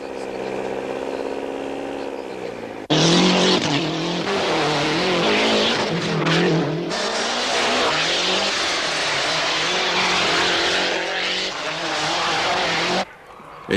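Lancia Delta rally cars racing on a Portuguese rally stage, engines screaming and revving hard as they pass close by, tires skidding on the surface, loud bursts with a brief quieter gap.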